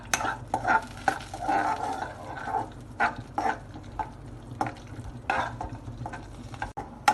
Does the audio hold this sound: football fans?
no